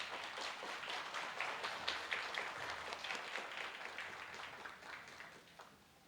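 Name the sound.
audience applause for the first speakers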